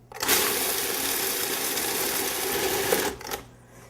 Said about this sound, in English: And we're also going to process this until there's some small chunks to the seeds,